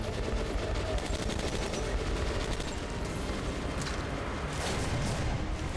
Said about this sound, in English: Where's that insane gunfire coming from?